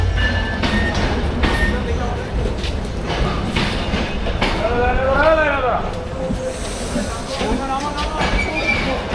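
A Drutojan Express intercity train rolls into a Bangladeshi station with rumbling wheels, rhythmic clacking and high wheel squeals as it slows, loud and close, while people talk over it.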